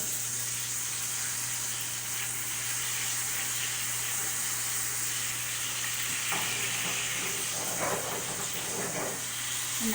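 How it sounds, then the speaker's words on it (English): Fresh tomatoes blister and sizzle in a hot pan for a pomodoro sauce, a steady loud frying hiss with occasional pops and stirring scrapes toward the end. "this starts to blister, I'll put in some white wine and cook off the alcohol"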